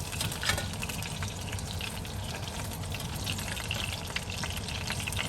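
Food frying steadily in a pan with oil, a continuous dense sizzle and crackle at close range, moderately loud throughout with no voices.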